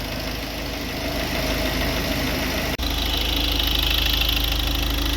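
A warmed-up car engine, the revised unit in a car, idles steadily up close with a constant low rumble and a faint ticking texture. A single brief dropout occurs midway.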